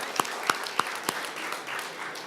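Scattered audience claps at a mayors' conference kickoff event, a few sharp distinct hand claps at the start thinning into lighter, irregular clapping that fades out.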